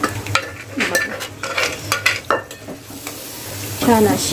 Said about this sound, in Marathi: आपण आता ही डाळ जी आहे ना ती आपल्याला यामध्ये घालायची आहे